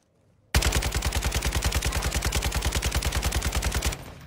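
Automatic gunfire in a video game rattles off in one sustained rapid burst of about three and a half seconds, loud and even, with silence before and after.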